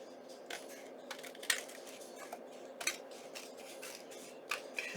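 Scissors snip through a recycled padded envelope, giving a few sharp, quiet cuts and soft rustling at an irregular pace, close up with no talking.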